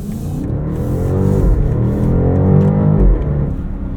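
A 2024 BMW X6 M60i accelerates hard through its ZF 8-speed automatic, a loud, close engine note rising in pitch, dropping sharply at a quick shift and climbing again, with no talk.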